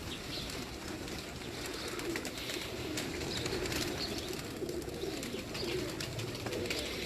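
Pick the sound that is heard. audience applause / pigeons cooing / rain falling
pigeons cooing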